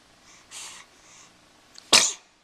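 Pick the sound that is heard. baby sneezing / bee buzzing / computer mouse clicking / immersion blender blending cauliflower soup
baby sneezing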